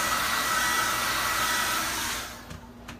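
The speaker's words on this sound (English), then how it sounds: "My hairdryer is safe at least." A hair dryer blasts steadily up close to dry glue on EVA foam for costume making, a loud even whoosh that drops in level near the end, followed by a couple of faint knocks.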